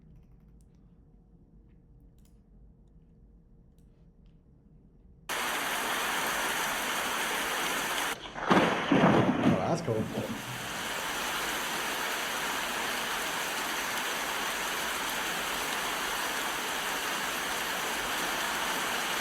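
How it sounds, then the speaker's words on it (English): Rain and thunder theme from a video game: quiet low hum, then steady loud rain hiss begins abruptly, a rumbling thunder burst swells in the middle, and the rain continues; a voice speaks briefly. "Rain Thunder theme."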